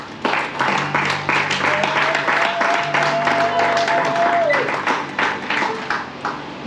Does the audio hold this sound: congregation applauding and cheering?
yes